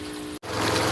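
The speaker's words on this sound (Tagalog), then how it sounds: "nagsimula na akong magpawala ng tubig dito sa aking pan number 1" Water drains from an African catfish pond being emptied for harvest, a steady, loud rushing flow like a pump outlet that cuts out for an instant and then returns fuller.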